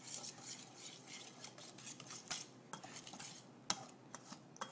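A half cup of flour being stirred into crepe batter with egg, quiet rhythmic scraping and clinking of a utensil against a bowl, close and soft, with a few sharper knocks and no speech.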